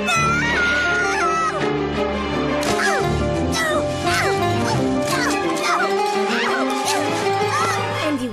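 A cartoon cat meows in several short, bright, rising and falling calls over a busy animated soundtrack with music, mixed with character dialogue.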